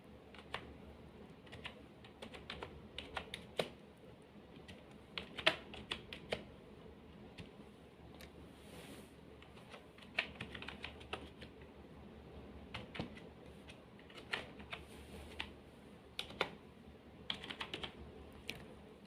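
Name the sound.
typing on a computer keyboard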